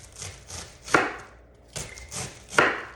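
Knife chopping on a wooden chopping block in a work area: loose clusters of dull wooden knocks, then two sharper, louder chops about 1.7 seconds apart, heard up close with no talk.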